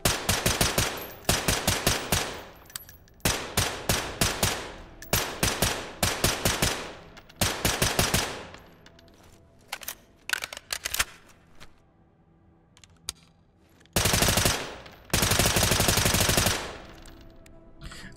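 Suppressed SCAR rifle fire in the tactical shooter Ready or Not comes in several rapid automatic bursts of muffled cracks, loud and close. The bursts are broken by short pauses and quieter handling noises, with no talking.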